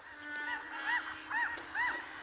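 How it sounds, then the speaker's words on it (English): A flock of gulls calls from a short distance, giving four or five separate honking cries at a slow, uneven pace over a steady low background hum. "That flock of gulls that was pestering Scatterbrook are on the move again."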